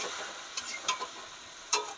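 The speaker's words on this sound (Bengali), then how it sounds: "মশলাটা দিয়ে ভালো করে কষিয়ে নেব" Spice paste sautéing in a hot pan, with a bright continuous sizzle broken by a few quick spatula scrapes, close up and with no voices.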